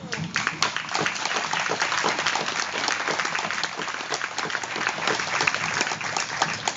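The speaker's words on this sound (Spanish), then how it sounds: "Yo le doy un aplauso al Señor." An audience gives sustained applause at a religious gathering, a dense, even wash of clapping from many hands that carries on for several seconds at a steady level.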